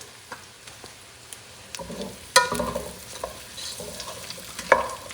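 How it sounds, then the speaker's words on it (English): Bread with sweet paprika stirred in a frying pan for Castilian garlic soup: a light sizzle under scattered scrapes and clicks of a utensil against the pan, with a few sharper knocks. "Mix everything together. Get that bread dark and pretty."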